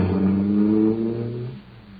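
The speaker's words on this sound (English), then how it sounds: "that cosmic surface car is really roaring" Supercharged cartoon car engine, a cosmic surface car running on super fuel, roaring with a low throbbing drone that fades somewhat toward the end.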